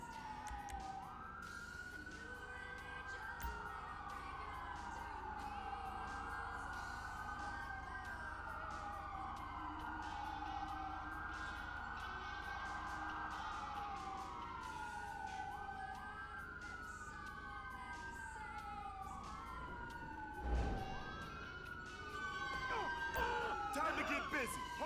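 Emergency sirens wail through a code 3 response in the police patrol game LSPDFR, cycling loud and close for the whole stretch, with overlapping sweeps, engine rumble and a sharper burst near the end.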